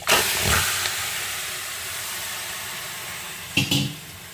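A kilo of washed, drained mutton hits a hot pan over a high gas flame, giving a loud burst of hissing sizzle that settles into a steady hiss, then flares briefly again near the end.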